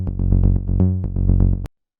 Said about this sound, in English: And then on the drop part, we have this bass sound.